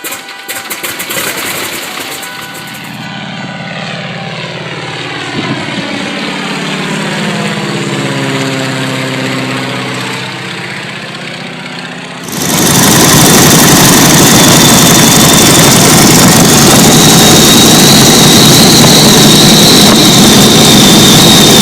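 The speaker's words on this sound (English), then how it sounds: "Let's go for a ride on the biplane." A biplane engine runs steadily, a passing drone at first that gives way to a loud, close, continuous roar with heavy propeller wash over the second half.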